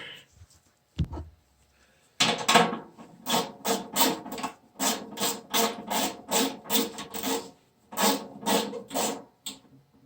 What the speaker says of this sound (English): Alright, I'll put these 4 screws back in here.